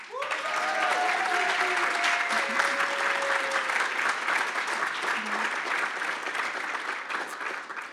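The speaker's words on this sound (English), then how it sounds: "I would like to give our pod leaders a round of applause" Audience applause for pod leaders at the MIT Summer Research Programs closing luncheon, a dense, sustained round of clapping from a sizeable room, steady for several seconds before tapering slightly.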